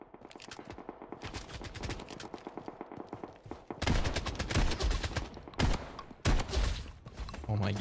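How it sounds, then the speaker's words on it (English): Shotgun blasts in the shooter game BloodStrike, rapid bursts of loud gunfire with dense clusters of shots and heavier booming blasts in the second half, close and punchy, with no talking. "these shotguns are nasty, bro"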